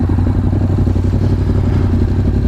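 A motorized bike, a 350, goes past with a loud, close engine rumble and a rattling clatter that holds steady through the short moment.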